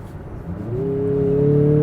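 Turbocharged 2.5-liter engine of a 2024 Mazda CX-50 Turbo GT revving in sport mode, a loud close hum that swells to a rising, sustained drone and holds, with no talking.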